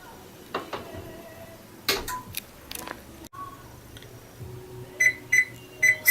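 Several soft clicks and taps give way to a series of short, high electronic beeps from a kitchen timer near the end, repeating in quick pairs.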